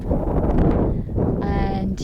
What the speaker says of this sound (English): and it is a bit windy.